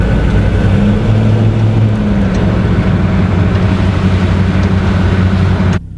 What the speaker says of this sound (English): for being an older diesel and a military truck with no sound deadening, it actually was not that loud